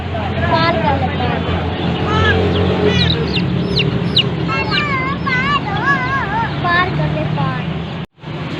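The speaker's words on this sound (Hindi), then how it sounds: "2 छोटे चूज़े लिए हैं बच्चों के लिए" Chickens and chicks at a bird market cluck and cheep in quick repeated bursts, close and loud over a busy background murmur of people talking, with a brief dropout near the end.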